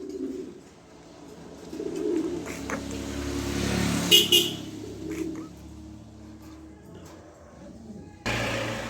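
White Sirazi pigeons at a pigeon sale coo softly amid a busy outdoor backdrop of passing traffic, with a short car horn toot partway through.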